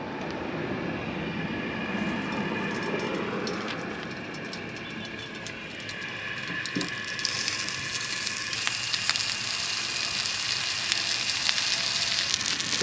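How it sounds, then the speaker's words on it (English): Salmon fillets frying skin side down on a grill give off a steady sizzle and crackle that builds louder toward the end, with occasional sharp pops. "Alright, we'll put them on the grill,"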